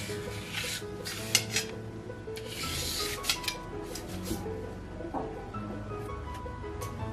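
A knife cuts set corn flour dough into shapes in a tray, making a continuous close rasping and rubbing scrape with a few light knocks against the pan over a low background hum.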